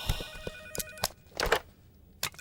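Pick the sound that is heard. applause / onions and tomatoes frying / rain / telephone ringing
telephone ringing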